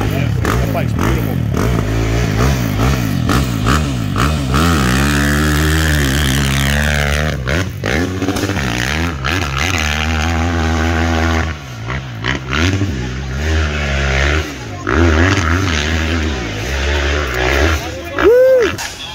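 A 1997 Honda CR500 two-stroke dirt bike at the Quaboag hillclimb in Monson, Massachusetts, loudly revving with rising and falling engine pitch, racing up and backing off, with crowd voices talking over it nearby.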